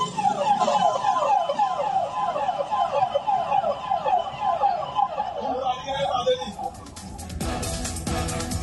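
A loud police car siren wails in repeated rising and falling sweeps, then cuts off into a burst of clattering noise.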